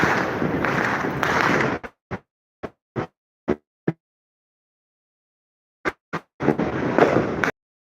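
Distant New Year's fireworks give off a handful of separate dull thumps and pops, spaced apart, between stretches of wind noise on the microphone.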